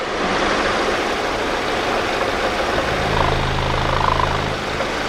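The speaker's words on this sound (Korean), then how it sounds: "엔진룸 굉장히 정숙하고 이상한 잡소리 안 나고 피스톤 슬랩은 안 나고요" A 2015 Hyundai LF Sonata LPi idles steadily and quietly, its smooth low engine hum continuous throughout, with a faint rise in tone near the end and no voices.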